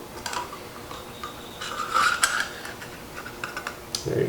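A metal lid being worked loose around the rim of a can of Minwax gel stain, giving soft rubbing and scraping scrapes with small clicks, close and fairly quiet, with no talking.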